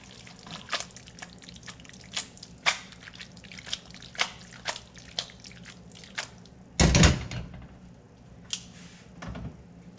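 Bucatini is stirred into homemade tomato sauce, giving soft, wet, irregular clicks and squelches, plus one louder scraping burst toward the end, all quiet and close.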